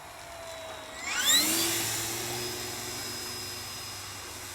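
Turbo Timber Evolution RC plane passing overhead, its electric motor whine sweeping in pitch as it flies by, rising to a peak then trailing off steadily at moderate distance.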